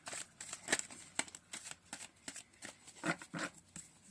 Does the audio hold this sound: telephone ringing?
no